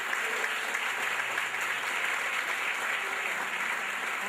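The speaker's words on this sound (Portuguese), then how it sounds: "Aplauda o Senhor." A church congregation applauds during a spiritual warfare service, a steady, dense wash of many hands clapping together, sustained evenly at moderate loudness throughout with no voices standing out.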